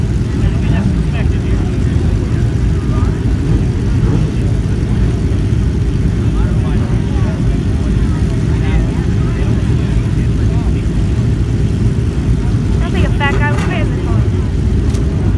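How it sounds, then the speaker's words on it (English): Small 750cc four-cylinder four-stroke inline motorcycle-engined race cars, about 850 pounds with driver, roar continuously on the Wall Stadium oval at a Turkey Derby event, loud and dense throughout with a crowd-like wash and possible voices mixed in. "These cars are powered by 4-cylinder, 4-cycle inline motorcycle engines, 750cc displacement."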